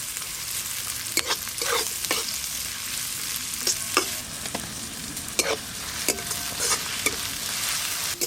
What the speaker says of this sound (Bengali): সর্ষের তেল দেবো কড়াতে, এবার পেঁয়াজ কুচি দিয়ে দেব।